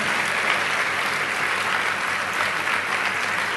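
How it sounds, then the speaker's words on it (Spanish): A congregation at a church service claps for the Lord, a dense, loud, continuous wash of applause sustained evenly throughout. "Dale el mejor aplauso al Señor"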